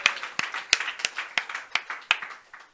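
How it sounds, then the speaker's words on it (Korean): Congregation in a Korean church clapping during a worship service, sparse and fairly quiet, with distinct individual claps standing out in a loose rhythm over a soft background patter. "우리 하나님께 영광의 박수 올리겠습니다"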